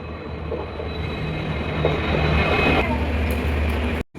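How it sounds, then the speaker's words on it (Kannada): The Hassan to Solapur passenger train rumbles into a station at close range, a loud continuous roar of wheels and carriages. A faint voice is briefly heard under the noise. "ಬಂತು ನೋಡ್ರಿ. Hassan to Solapur train"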